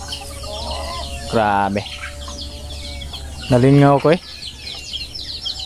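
Rhode Island chickens on a farm clucking loudly in two clear bursts close by, with a steady background hum and a person talking between the calls.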